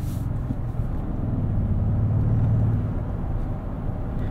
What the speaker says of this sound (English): Sport Plus, let's see how this accelerates.